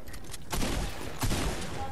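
Bursts of gunfire from a Fortnite battle royale match: a couple of loud, dense volleys of rapid shots with a quieter stretch between them.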